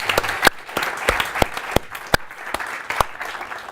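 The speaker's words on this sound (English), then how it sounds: "Please help me in giving an applause to the final panel." An audience at a panel discussion claps for the final panel, a fairly small group giving scattered, distinct claps at a moderate distance rather than a dense roar.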